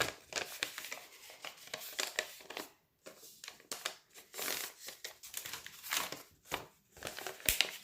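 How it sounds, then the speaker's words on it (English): Coffee-dyed paper bag pages crinkle and rustle while being handled, a close, continuous run of dry crackling bursts with brief pauses, no talk. "Don't you love the sound of that coffee dyed paper?"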